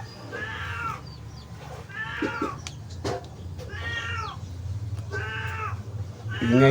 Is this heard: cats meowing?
yes